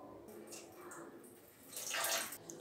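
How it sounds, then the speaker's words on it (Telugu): Soaking water is poured off lentils that have soaked for an hour for masala vada. A faint, brief splashing pour swells near the end over a quiet room. "ఇప్పుడు ఈ నీళ్ళన్నీ కూడా మనం వంపేసేద్దాం"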